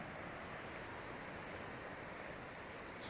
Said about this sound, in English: this is some serious swell and waves here